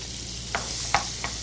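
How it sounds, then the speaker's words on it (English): Carrots saute in a pan with a steady, soft sizzle, broken by three quick scraping stirs close by. "So now we're going to saute the veg, right?"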